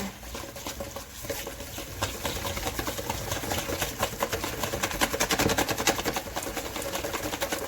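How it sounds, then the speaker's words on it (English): A whisk beats donut glaze of powdered sugar, melted butter and liquid in a bowl, a steady, fast, close scraping patter that grows busier and louder midway. "So then you just take a whisk and then you whisk it together."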